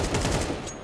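Rapid automatic gunfire in Counter-Strike 2 during a competitive round, a dense burst of repeated shots filling most of the moment before trailing off, loud and close with no voices over it.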